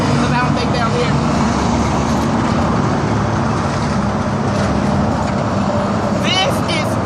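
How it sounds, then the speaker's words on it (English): A truck drives by on a roadway nearby, a loud, sustained engine and tire roar filling the whole stretch with steady traffic noise, a few faint squeaks near the end. "I'm gonna let this truck go by because I don't think they'll hear me"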